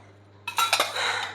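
A small 700 ml cooking cup and a bowl clink and rattle together close by, a short burst of metallic knocks over a faint steady hum, with no talking.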